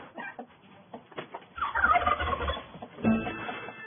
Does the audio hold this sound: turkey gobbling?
yes